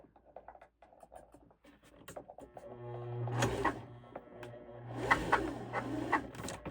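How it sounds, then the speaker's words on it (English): A EuroPro sewing machine winds bobbin thread, a steady motor hum with a rising whir over a few seconds, followed by light clicks and handling noises at close range. "So now we can just wind the thread on the bottom."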